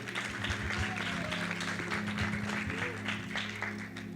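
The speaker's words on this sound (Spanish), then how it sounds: "un aplauso para ellos, por favor" An audience at a talk on love, dating and marriage claps for the people just thanked, a moderate wash of applause mixed with low hum and some background voices.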